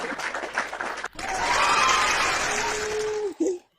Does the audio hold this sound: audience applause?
yes